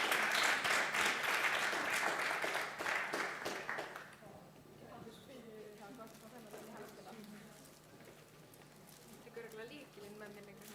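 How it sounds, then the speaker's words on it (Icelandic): Applause from the audience at an ADHD association seminar on sports and energy, dense clapping for the first four seconds before fading out as people begin talking. "það voru allir að klappa"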